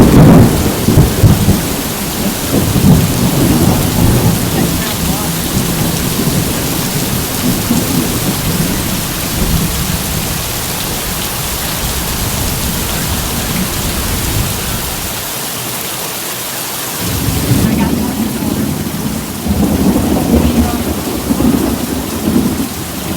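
Heavy rain pours steadily during a thunderstorm under a tornado warning, with deep rolling thunder booming near and loud at several points across a continuous roar of downpour.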